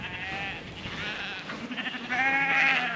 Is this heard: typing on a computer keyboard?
no